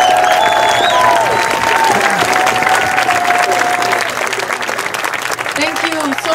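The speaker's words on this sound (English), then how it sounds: "give it a big round of applause." A crowd applauds and cheers for Jill Stein at an outdoor Indigenous Day of Action rally, loud and continuous, with a voice speaking over the clapping and whistle-like cheers rising above it.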